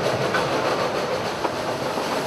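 A Shay steam locomotive runs on rails at Roaring Camp Railroad, a loud, continuous roar of wheels and mechanism with faint clickety-clack rhythm, heard close and steady throughout.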